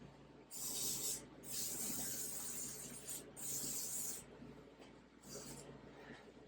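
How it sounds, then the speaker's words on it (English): WD-40 lubricant sprayed onto an axle in bursts, three or four soft aerosol hisses of varying length with brief gaps between them, fairly faint over a low background rumble. "I'm going to put some WD-40 on this axle."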